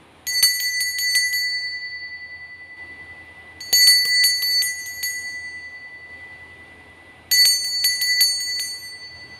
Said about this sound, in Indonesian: kita akan mulai dengan ditandai lonceng berbunyi